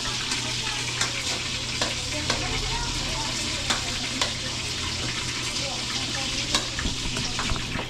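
Boneless milkfish (bangus) sizzles and crackles steadily in a frying pan, with occasional sharp pops and scraping stirs over a continuous frying hiss.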